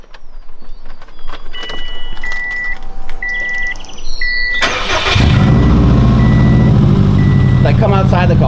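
A Subaru fitted with a new loud aftermarket exhaust. Warning chimes sound inside the cabin first, then the engine starts with a sudden burst and settles into a deep, loud, rumbling idle, with voices nearby.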